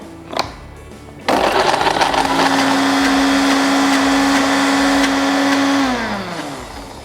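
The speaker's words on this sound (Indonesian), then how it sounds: "Kita blender." A blender grinding garlic and shallots with oil whirs on abruptly, grinding at a steady high whine for several seconds before winding down and stopping.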